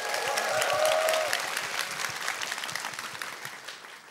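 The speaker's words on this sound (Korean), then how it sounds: "박수 부탁드립니다." Concert audience at a Korean storytelling concert clapping for a singer-songwriter, a moderate even patter of many hands that slowly thins out, with a faint sustained tone near the start.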